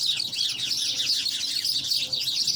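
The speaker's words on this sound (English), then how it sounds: "Got about 4 or 5 birds just fighting with each other." Four or five small birds squabble and chirp in a rapid, overlapping flurry of high tweets, close and continuous with no voices.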